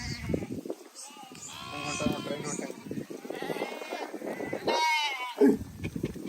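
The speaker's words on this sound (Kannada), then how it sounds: "ಎಲ್ಲ ನಮ್ಮವ ನೋಡೋದು ಕುರಿ." Sheep bleat repeatedly in wavering calls, close by and fairly loud, with people talking over and between them.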